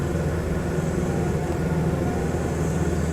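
An airplane taxiing to the runway in Microsoft Flight Simulator gives a steady, dense engine drone, loud and unbroken from start to finish with no voices.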